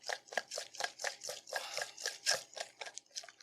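A whisk beats lemon glaze for a buttermilk pound cake in a bowl, a close, quiet series of quick rhythmic scraping strokes, evenly paced with no talking.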